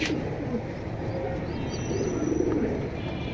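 Pigeons in a fancier's collection coo softly under a steady, noisy background, low warbling calls drifting in and out at moderate distance.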